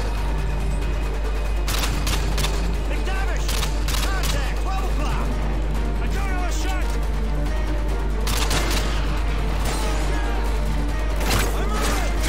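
Call of Duty Modern Warfare 2 gunfire cracks out in scattered loud bursts and volleys over a constant low game rumble, with a person talking through it.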